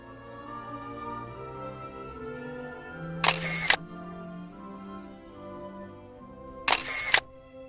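A camera shutter fires twice at a fast 1/500 speed, each release a crisp, quick double click, spaced about three and a half seconds apart over a quiet background hum.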